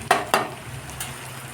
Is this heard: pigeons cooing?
no